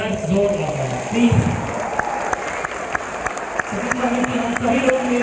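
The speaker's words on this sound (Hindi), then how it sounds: "जोरदार तालियां सर, जोरदार प्लीज।" Sustained audience applause at a large event hall gathering, dense and steady with a few louder bursts, mixed with crowd noise and no clear talk on top.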